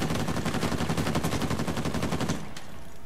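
Rapid gunfire from the video game Uncharted 4, loud and close, a dense run of shots that stops abruptly after about two seconds, followed by a single sharper crack.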